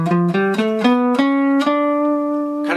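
A D melodic minor scale played note by note on a melodic instrument, ascending in steady even steps and ending on a long ringing top note, close and clean with no talk.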